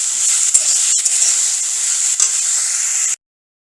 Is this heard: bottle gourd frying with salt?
yes